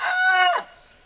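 A rooster crows once, close and loud, a short bright cock-a-doodle-doo that rises and then cuts off abruptly into quiet.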